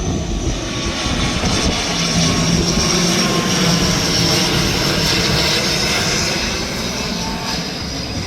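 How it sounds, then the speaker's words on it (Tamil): A fixed-wing airplane arriving and landing at an airport, its engine roar steady and loud throughout with a broad, sustained rumble and a faint high whine. "தற்போது வந்து ஃப்ளைட் வந்து இறங்கிட்டு வந்து பிரியாங்கா இந்த ஃப்ளைட்டில் வந்திருக்கிறா"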